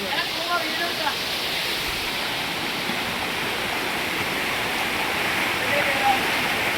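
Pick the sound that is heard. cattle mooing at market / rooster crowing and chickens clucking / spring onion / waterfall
waterfall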